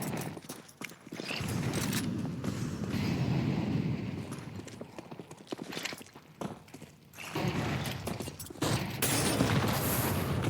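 Grenades going off during a Counter-Strike match, booming blasts and dense clattering game noise, loud and continuous with a brief lull in the middle.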